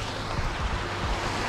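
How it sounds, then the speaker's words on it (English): Steady rushing water from a small waterfall beside a small body of water where bass fishing is underway, a dense continuous roar close to the microphone with no talk over it. "I wish there was some way I can mute this waterfall."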